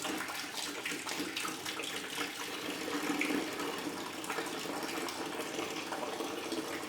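Old, dirty coolant pours steadily from an Acura Legend coupe into a bucket, a continuous close splashing gush with no talking.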